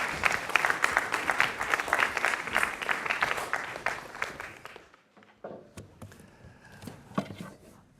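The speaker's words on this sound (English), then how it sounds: "Please give a warm round of applause, William Irwin Thompson." Dense applause from an audience at a poetry reading fills the first half, bright and sustained, then breaks off abruptly into a few scattered claps and quiet room sounds.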